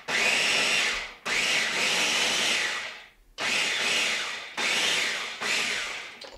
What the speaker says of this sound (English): And I have to go over to the wall plug to blend it.